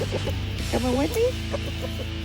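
An adolescent rooster named Tay gives a short run of close clucks, with one drawn-out rising call in the middle, over a low steady background hum.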